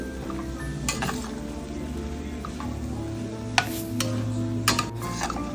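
Beans stirred in a pan with fried masala for a dry vegetable side dish, a steady scraping and clinking of a spoon against the pan with a couple of sharper clinks, close and alone without talk.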